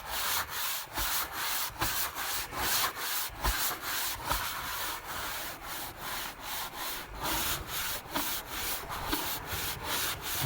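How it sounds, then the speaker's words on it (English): A brush scrubs plastic garden furniture with soapy water in quick, rhythmic back-and-forth strokes, a steady scratchy rubbing heard close up with no voices. "I have some soapy water and a brush"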